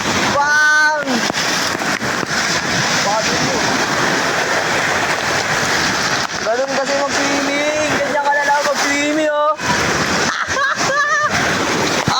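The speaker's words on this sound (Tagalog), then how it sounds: "Lakas ng alon, oh." Strong sea waves break at a beach in Batangas, keeping up a loud, continuous rushing wash, while people's voices cut in now and then over the surf.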